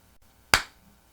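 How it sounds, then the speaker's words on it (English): One sharp hand clap, close and crisp, in an otherwise quiet room. "I'll clap because I got nothing to say"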